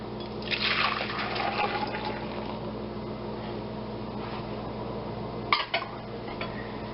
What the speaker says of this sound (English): Now we are going to transfer this back into our saucepan